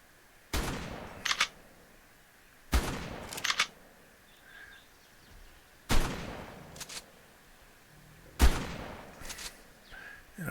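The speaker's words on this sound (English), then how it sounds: "we're going to go ahead and use the shotgun to do that" Shotgun blasts in ARK aimed at a saber tooth: four loud, sharp shots spaced a couple of seconds apart, each followed by a quick mechanical pump-like click, with quiet game ambience between.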